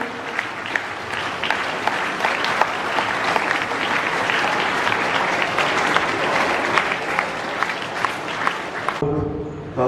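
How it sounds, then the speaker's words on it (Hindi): Loud, sustained applause from an audience filling an inauguration ceremony at a school, dense continuous clapping that carries on for about nine seconds before stopping abruptly. "आप तालियां बजाते रहें"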